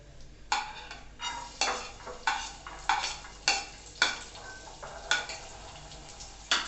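Chopped garlic sautéing in a little oil in a pan, heard as a series of about ten rhythmic stirring scrapes over a faint sizzle, close and alone with no talk.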